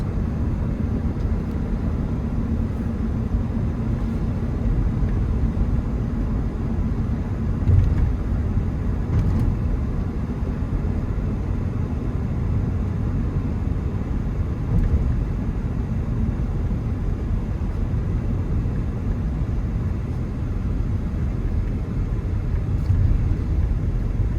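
Cab interior of a 1999 Ford F-150 pickup truck cruising down the road, a steady low road and engine rumble with faint clicks and no voices.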